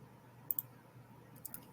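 A computer mouse clicks twice, a short pause, then two more quick clicks, crisp and close against a low background hum.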